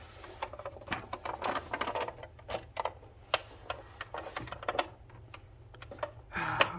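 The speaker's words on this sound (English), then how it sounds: "if I now turn the typewriter over" A Citizen X3 portable typewriter being turned over and handled, giving a run of sharp plastic-and-metal clacks and knocks at irregular intervals, close by, over a low steady hum.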